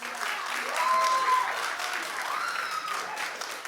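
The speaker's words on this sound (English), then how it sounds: "Clap if this is a show that you would watch." Studio audience at a daytime talk show clapping, a steady, fairly loud wash of applause that holds for several seconds without any talk over it.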